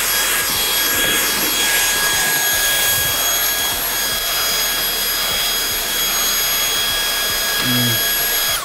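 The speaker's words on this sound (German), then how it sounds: "Ein bisschen weiter rein und dann gehen wir erstmal mit dem Staubsauger ein bisschen hin." A vacuum cleaner runs with a steady, loud roar throughout while cleaning dust out of a PC case, with brief bumps and rattles near the end.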